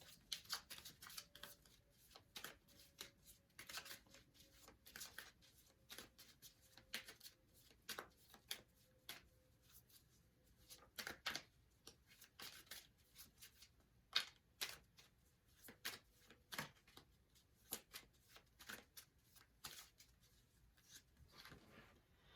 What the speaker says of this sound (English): Let's pull a romance angel card for you. Or cards.